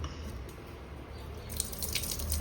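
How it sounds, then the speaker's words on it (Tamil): Water is poured over dried fish to rinse it in a kitchen, a steady close splashing and trickling with faint drips that grows a little busier toward the end. "ஒரு நாலு தடவை தண்ணி ஊற்றி பிசிஞ்சு அலசிடணும்"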